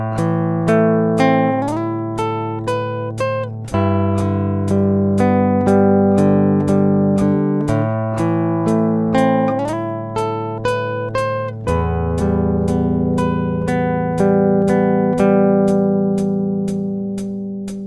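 Fingerstyle acoustic guitar playing the opening line of a sad love song: a steady run of plucked notes over ringing bass notes, close and clear, with no voices.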